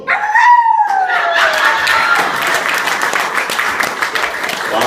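A person imitates a dog barking and howling before a live comedy-improv audience. The voiced howl rises and falls, then breaks into loud applause and cheering that continues to the end.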